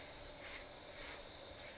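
A spray gun sprays custom-mixed Standox solvent basecoat paint onto race car panels, giving a continuous, even, close hiss that runs unbroken from start to finish.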